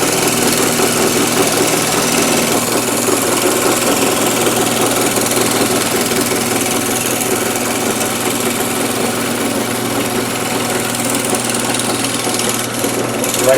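A lathe runs while an arrow shaft cutter shaves a wooden dowel rod, producing a loud, steady mechanical drone with a continuous rough cutting buzz and no pauses.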